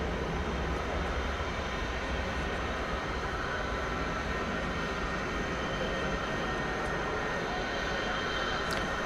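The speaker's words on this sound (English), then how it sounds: "Airbus A321 from San Diego." Airbus A321, flight 1770 from San Diego, passing at DFW Airport at night, a constant broadband jet rumble holding at an even level for the whole stretch, with no talk.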